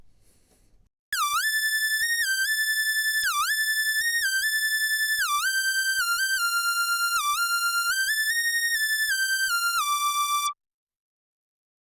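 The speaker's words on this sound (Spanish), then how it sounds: "Hace ese sonido, ese tipo de silbato de melody pop." A bright, pure whistle-like G-funk synth lead from Behringer Model-D and Arturia Minimoog synthesizers plays a bouncy melody with pitch glides between notes, loud and alone, ending abruptly.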